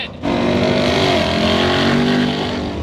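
A 2025 Ford Mustang FP800S race car with a 10-speed automatic gearbox drives on a track, its engine a loud, sustained, rising drone heard up close and alone.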